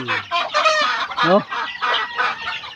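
Several chickens cluck and squawk close by in quick, overlapping bursts, loud and busy with no talking.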